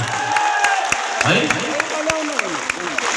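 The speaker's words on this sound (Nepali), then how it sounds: "प्रहरीको लागि एकचोटि ताली बजाइदिउँ न प्लिज" A crowd at a Shram Sanskriti Party gathering in Gaighat, Nepal, applauds for the police, producing a steady, dense round of clapping with scattered sharper claps while a voice briefly speaks.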